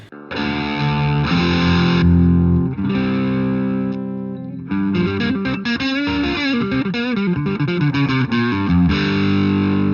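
Electric guitar through the TV Drive preset of a Mooer Preamp Model X2, gritty overdriven chords and sliding single-note lines ringing out loud and close with sustained distortion, briefly dropping out midway.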